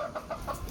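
Chickens clucking close by in a quick series of four or five short, rhythmic clucks with no talk.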